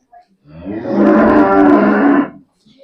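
A single long, loud moo from a young female calf lasting over a second, close up, with a brief faint noise before it.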